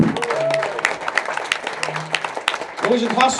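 Audience applause at a live Frisian music performance, a few seconds of clapping mixed with a voice and short tonal sounds.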